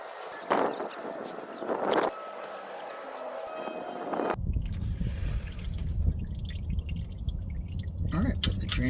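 Warm engine oil drains from a 2009 Chevy Cobalt with 324,001 miles and 5,000 miles on the oil. A few drips and clanks come first, then a steady, continuous pour of liquid into a pan runs close and moderately loud.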